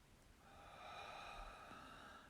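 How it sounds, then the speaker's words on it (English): A slow, soft inhalation through the nose during meditation, drawn out over about two seconds, quiet and close with no talking. "Breathing in,"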